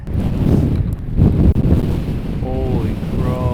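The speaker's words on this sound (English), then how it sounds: "Oh my gosh, it's windy." Strong wind gusts roar steadily across a microphone at a lake during solo truck-bed camping, a loud continuous rumble with buffeting, and faint higher tones near the end.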